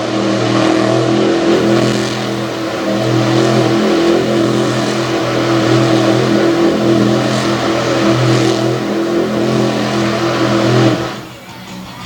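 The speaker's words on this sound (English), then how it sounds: "she rips off a donut." Truck engine revving hard and sustained while spinning a donut on a dirt track at a Renegade mud truck event in Greensburg, PA, loud and close, with steady roaring tones before dropping off near the end.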